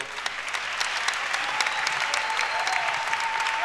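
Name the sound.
congregation applause in church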